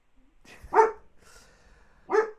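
A pet dog gives a couple of short, close barks with whimpering in between, indoors, loud bursts separated by quieter pauses.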